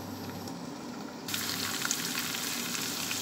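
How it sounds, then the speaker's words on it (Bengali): Chicken fries in a pan, a constant close sizzling hiss that swells louder and brighter partway through, with faint popping spatters and no speech. "যে আমার চিকেনটা কিন্তু ফ্রাই হয়ে গিয়েছে"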